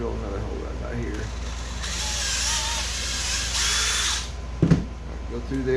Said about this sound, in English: I'll drill another hole right about here.